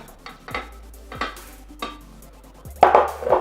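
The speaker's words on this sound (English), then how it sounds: "So what you need to do now is put the tempeh pieces in." Tempeh pieces tossed and stirred in marinade in a mixing bowl, giving a few separate soft clatters and scrapes of the spoon against the bowl, then a louder wet tumbling toss near the end.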